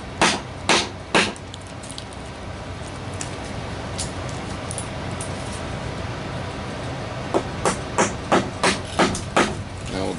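A heavy mortise chisel pries and knocks out wood chips while a timber bridge is built, giving sharp, close wooden knocks in clusters at the start and end over a constant low background rumble.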